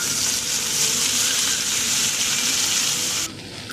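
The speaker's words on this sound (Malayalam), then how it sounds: "ചെറുപയർ നന്നായിട്ട് വഴറ്റി കൊടുക്കാം നെയ്യിൽ." Cooked green gram sautés in ghee in a hot pan with a loud, steady, close sizzle. The sizzle drops off abruptly near the end, and no one speaks.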